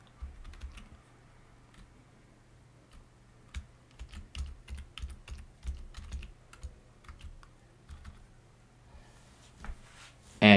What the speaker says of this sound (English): type in the password you want to be using